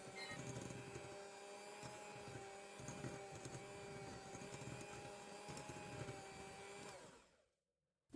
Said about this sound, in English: I'm going to use an electric mixer to beat this on medium speed until it becomes pale and fluffy